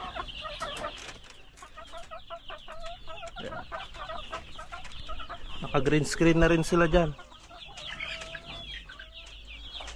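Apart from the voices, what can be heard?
hungry chickens clucking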